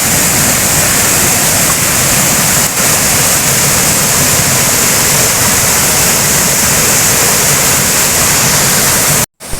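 A loud, constant roar of the Urulikkund waterfall in Kannur pouring nearby, dense and unbroken, ending in a brief sudden cutoff.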